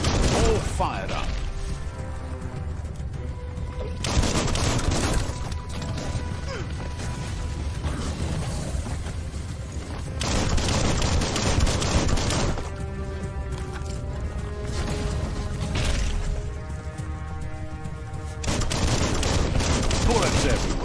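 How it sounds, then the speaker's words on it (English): Gunfire in the Biomutant action game, repeated bursts of shots amid mechanical clatter and game effects, loud and sustained, with surges of heavier firing in several stretches. "Bullets everywhere."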